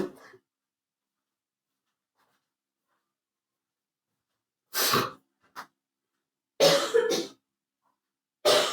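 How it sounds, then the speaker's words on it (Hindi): Several separate coughs with silent gaps between them: a single cough, a short one, then a double cough and one more at the end. "मेरे को थोड़ी खांसी आ रही है"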